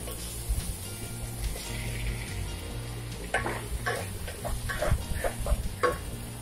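Tomato tipped into onions three-quarters sautéed in a pan for a non-veg lunch, giving a steady close sizzle and frying hiss followed by a run of clattering stirs and spoon knocks against the pan, with no talking.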